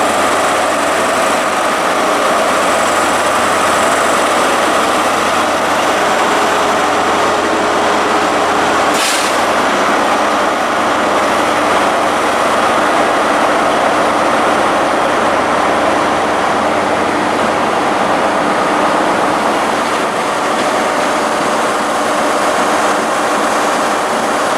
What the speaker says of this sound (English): Now departing 43153 with the service bound for London Paddington